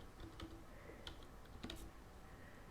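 Quiet, sparse keystrokes on a computer keyboard, a few separate taps pressed while entering a node name in compositing software, with no talk.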